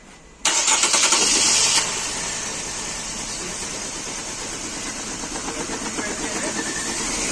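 A car engine with a rough idle cranks and fires, roaring up loudly at first, then settling into a steady, slightly uneven idle that carries on close by.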